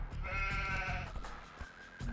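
Sheep bleating in a real-time strategy game, a few wavering bleats up close in the first second, followed by quieter game effects and low tones.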